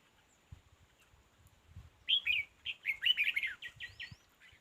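A red-whiskered bulbul chirping in a burst of quick, bright, warbling notes after a few soft thumps and rustles, fairly close and clear against a quiet background.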